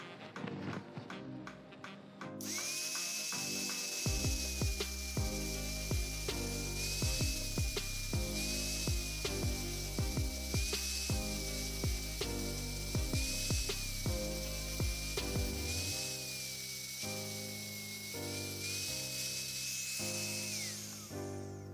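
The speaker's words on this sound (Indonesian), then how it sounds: "Langsung saja kita gerinda." An angle grinder cuts open a used car oil filter, starting after a brief quiet moment and then holding a steady high whine with repeated rhythmic knocks and scraping as the disc bites into the metal casing.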